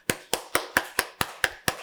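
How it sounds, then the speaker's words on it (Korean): A congregation claps in thanks during a Wednesday church service, eight sharp, evenly spaced claps in quick rhythm, close and clear with no voices. "32도 주신 우리 하나님께 감사 박수합시다"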